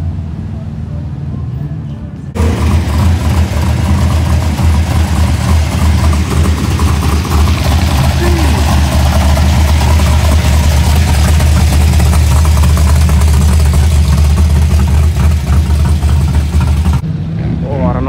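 A Toyota Supra MK4 with a Tomei exhaust idling at a car meet, heard as a steady, loud, low engine rumble that runs for most of the clip, beginning and ending abruptly, with voices faintly in the background.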